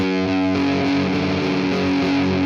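A heavily distorted electric guitar playing a famous intro riff, sustained and loud with ringing stacked notes and no voices.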